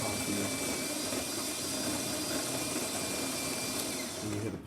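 A Jura coffee machine's pump runs after servicing with new gaskets and screens, giving a steady, loud mechanical hum and buzz that holds continuously from start to finish before cutting off at the end.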